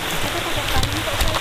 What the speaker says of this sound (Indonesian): Mancing hujan-hujan.